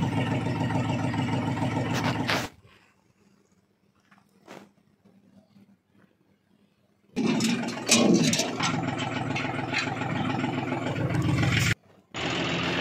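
A tractor engine runs loud and close in two bursts, a steady throaty drone for the first couple of seconds, then near-silence for about five seconds before the engine roars again and keeps running to the end.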